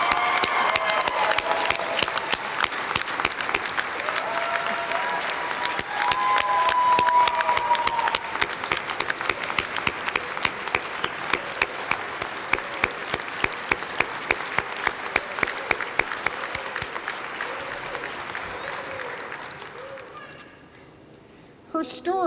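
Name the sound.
audience round of applause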